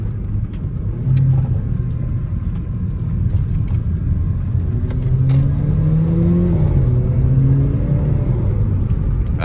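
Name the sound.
Mercedes CLA45 engine over-revving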